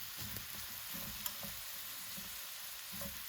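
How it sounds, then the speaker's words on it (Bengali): Sliced mushrooms with garlic fry in a hot pan over medium heat, a steady close sizzle and crackle with a few light clicks running through the whole stretch. "দিয়ে দিচ্ছি এখন মাশরুমগুলো।"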